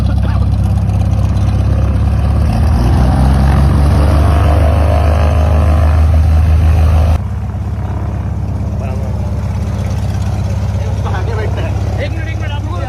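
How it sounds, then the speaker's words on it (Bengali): A small helicopter arrives with a loud, throbbing rotor and engine drone that suddenly drops in level partway through, and voices are heard beneath the noise. "আমাদের যে হেলিকপ্টার আছে সেটা আসছে"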